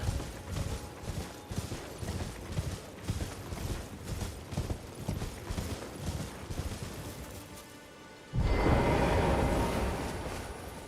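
Horse hooves clip-clop in a rhythmic, steady trot in Elden Ring, mixed with game mechanisms and creaks, before a louder broadband rush of sound takes over near the end.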